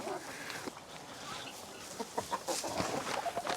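Chickens on a farm cluck in soft, scattered bursts at a moderate distance, with faint background noise and brief murmurs of voices.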